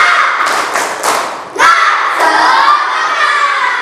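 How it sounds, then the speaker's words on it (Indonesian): Children in a classroom religious-education lesson perform a tepuk semangat clapping chant: a few sharp group claps in quick rhythm, then an excited burst of shouting and cheering with a thud, the voices loud and close. "Tepuk semangat."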